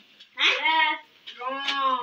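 Two drawn-out cat meows close by, separated by a short pause, clear and fairly loud with no talk over them.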